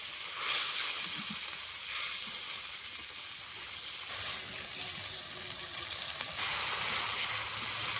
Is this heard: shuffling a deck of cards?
no